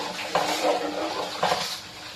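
Rice grains rattle and patter into a metal pot of boiling salted water in two brief, close pours, while making pulao.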